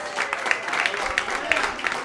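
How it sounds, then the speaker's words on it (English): Audience applause in a comedy club, a dense, steady wash of many hands clapping at moderate loudness with scattered sharper claps, filling the whole stretch without a break. "Give Jill a big round of applause"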